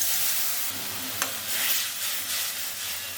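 A paste of ground coriander, cumin, ginger and chili fries in a pan after water is added, giving a soft steady sizzle with light stirring scrapes and a small tap.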